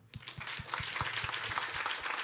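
An audience at a Simi Valley community meeting claps, a steady patter of many hands at a moderate distance with a few sharper individual claps standing out in a regular rhythm.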